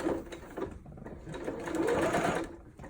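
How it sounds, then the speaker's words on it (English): A sewing machine stitches a straight line along a dart marking on dress fabric, with a close, continuous whirring hum that rises and falls slightly in pace over a few seconds. "put the needle down in the fabric, sew a straight line right along the dart marking"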